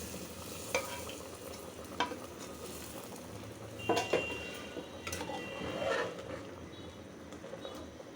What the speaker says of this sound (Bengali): এখন বাগার দিয়ে ফেলবো।